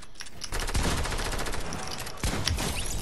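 Rapid bursts of automatic gunfire in the video game Fortnite, dense overlapping shots rattling continuously across the clip with a few sharper reports near the end, no voices.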